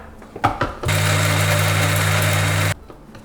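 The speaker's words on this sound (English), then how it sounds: "Grind this entire mixture to a fine paste." A kitchen mixer grinder whirs loudly for about two seconds as it blends a spicy chicken curry paste with yogurt, with a steady motor hum and a sharp start and stop, close by.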